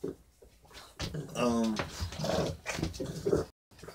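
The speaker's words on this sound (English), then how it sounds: "My dogs just came in here raising hell." Dogs burst into a room, growling and whimpering close by, with someone talking over and between their noises.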